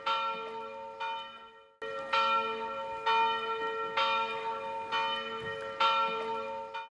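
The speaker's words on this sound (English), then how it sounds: "Church bells ring for the evening service." Church bells in Croatia ringing for the evening service, a series of resonant tolls with long ringing tails, a brief pause after the first strikes, then a steady rhythmic peal.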